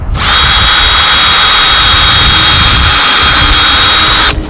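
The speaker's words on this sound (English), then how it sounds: "Drill a hole." A loud, steady high-pitched whine of a power drill drilling a hole runs for about four seconds, starting and stopping abruptly, outdoors by a beaver pond.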